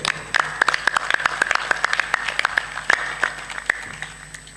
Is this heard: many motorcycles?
no